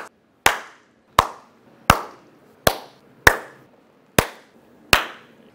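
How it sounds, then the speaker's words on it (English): Seven crisp, loud hand claps ring out one at a time at roughly even intervals, close by, each with a short decay and silence between, as a basketball team member claps. "one big loud clap for me."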